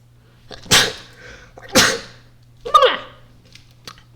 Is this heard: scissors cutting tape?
no